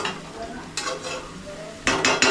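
Masala for crab curry fries in a pan on full heat with a soft background sizzle, broken by several loud scraping strokes of a spoon stirring against the pan.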